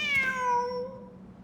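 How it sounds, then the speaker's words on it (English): A single drawn-out cat meow from the video game Genshin Impact, rising and then sliding down as it fades, close and clear against a faint background hum. "Wait, there it is! The cat!"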